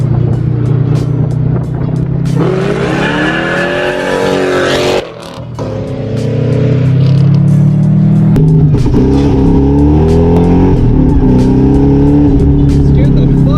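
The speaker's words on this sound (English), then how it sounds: "You can hear the whine a little bit from the outside of the car." A 2-valve Ford Mustang fitted with a supercharger, idling and revving loudly while heard from outside the car, the engine rumble rising and falling with a thin high whine riding on top, a brief dip midway.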